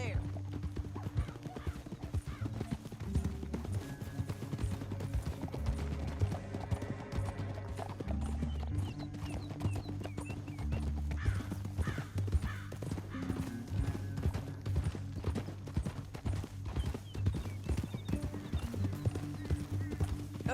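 Horses ridden in Red Dead Redemption 2 produce a continuous, rhythmic clip-clop of hooves beneath tonal game music, with characters talking over the ride.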